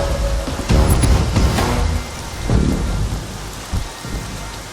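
Heavy rain pours down steadily with rolling thunder rumbling underneath, loud and continuous throughout with no voices.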